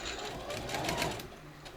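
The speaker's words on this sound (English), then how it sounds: "Back stitch at the beginning of the gap and sew along a seam of just under 1/2 inch" A sewing machine stitches a seam just under half an inch around a triple-layered fabric face mask, giving a steady, close whirring run that swells slightly midway, with no talk.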